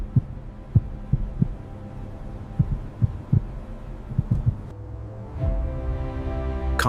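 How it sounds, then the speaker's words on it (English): Heartbeats thump in a steady, regular rhythm, low and throbbing pulses repeating about once every second over a faint hum, with a droning tone rising toward the end. "The heartbeat was steady."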